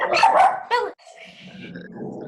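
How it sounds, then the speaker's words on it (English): A pet dog barks twice, loud and close, followed by softer whimpering yips, with a faint voice in the background. "my dog's freaking out."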